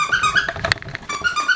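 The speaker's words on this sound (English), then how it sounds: "Squeak it, does it squeak?" A squeaky dog toy squeaked in repeated short, high-pitched bursts, fairly close and clear, with a brief thump in the middle.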